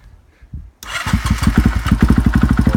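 A 2017 KTM 450 EXC Six Days enduro motorcycle fires up after a short crank, then settles into a loud, close, steady rhythmic thump with no talk over it.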